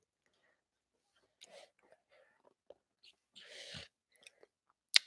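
A young child eats rice cake close to a microphone at home, giving a few scattered, quiet chewing and biting sounds with a louder crunchy burst near the middle and soft whispery breaths between.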